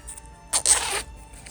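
The zipper on a handmade, sewn compact fabric wallet is pulled in one short zip lasting about half a second, close and fairly quiet, with faint rustling before and after.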